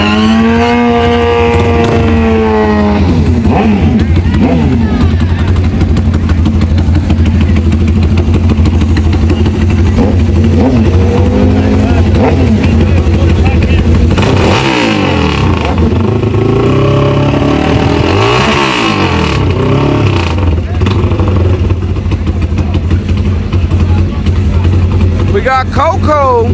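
Engine of an El Camino car revving in a video game race, a loud continuous roar with rising and falling pitch sweeps, heard under someone talking throughout.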